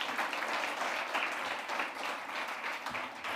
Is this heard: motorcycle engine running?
no